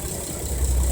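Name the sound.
aquaculture work boat engine running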